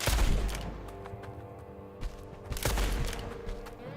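Gunfire in the video game Blood West firing gold bullets, a dense burst of loud shots at the start, a pause, then another close volley, with no talk over it.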